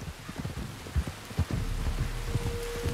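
Rain pours in Red Dead Redemption 2, a steady wash of falling water with scattered louder drops and thuds, heavier in the second half and heard without talk.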